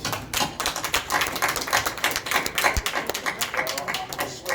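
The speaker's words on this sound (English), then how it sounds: "we got to give Mr. Eddie Hearn and Matt Truman a round of applause for tonight" Applause at the Joshua vs Ruiz boxing press conference: many hands clap fast and steadily from nearby for the whole stretch, with a few faint voices mixed in under it.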